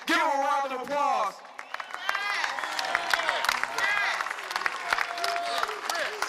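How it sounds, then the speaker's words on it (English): Crowd at the Million Workers March rally at the Lincoln Memorial breaks into applause after an amplified voice, with clapping mixed with whoops and cheers from an outdoor gathering, steady and fairly loud. "Give him a round of applause"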